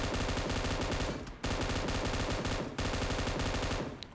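Sustained automatic gunfire rattles in dense, loud bursts during a BGMI mobile shooter match, broken by two short pauses, with no voices over it.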